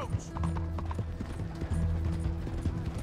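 A borrowed horse's hooves clip-clop steadily on the ground in Red Dead Redemption 2, close and continuous over an ambient outdoor background, with a soft snort near the start.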